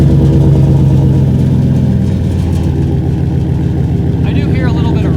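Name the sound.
Ford F-150 engine with Flowmaster Outlaw exhaust, slight rattling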